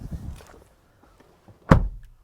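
A Honda CR-V Hybrid door heard from inside the cabin: a few faint clicks and rustles, then one solid, close thunk as the door shuts in an otherwise quiet interior.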